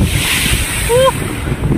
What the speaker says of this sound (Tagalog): Malakas pala ng alon dito, oh.